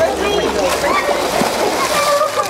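Water splashes and sloshes continuously at close range while being poured at a teachers' outdoor tourist gathering, with people talking loudly over it.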